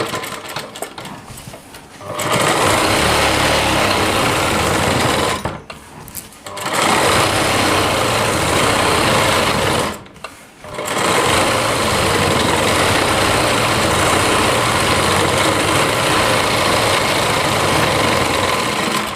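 A sewing machine stitches lehenga panels for a heavy-work Rajputi poshak, running in loud, close, steady whirring bursts with three brief pauses before it runs on continuously.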